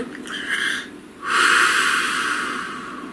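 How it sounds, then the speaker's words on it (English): A deep breath is drawn in, then pauses briefly before a long, loud, airy exhale follows close to the listener, with no talking. "Please take a nice deep breath."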